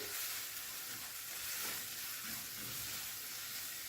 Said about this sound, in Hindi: 1 से 2 मिनट इसकी भुनाई करते हैं।